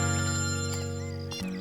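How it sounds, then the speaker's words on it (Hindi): A mobile phone ringtone plays steadily as a sustained electronic tone, loud and close, alone without talk, with a brief shift in pitch near the end. "अरे यार बुलबुल का फोन आ रहा है"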